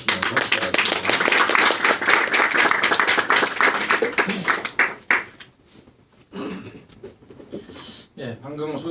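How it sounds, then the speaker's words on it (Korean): Church lecture audience clapping to welcome a speaker, a loud burst of applause that fades after several seconds into scattered claps and quiet room sound, with speech beginning near the end. "이제 나오셔서 강의하실 때 여러분 우리 박수로 환영을 하시면서 시작하겠습니다."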